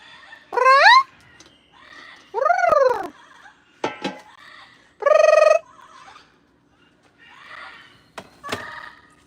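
Peppa, a pet bird, makes a string of odd, separate calls up close: rising whistles, a harsh squawk, clicks and a nasal honk, with short pauses between them.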